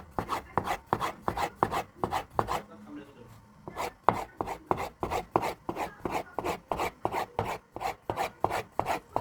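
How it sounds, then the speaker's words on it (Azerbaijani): A knife chops through thin rolled dough for homemade Azerbaijani erishte noodles, striking the board in a steady, quick rhythm of close, crisp cuts, with a short pause partway through before the chopping resumes. "Çox nazik kəsirəm, çünki nazik xoşlayırlar bizə."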